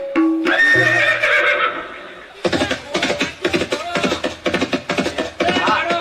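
A horse gives a loud, close neigh that rises and wavers, followed by a quick run of snorting, whinnying bursts.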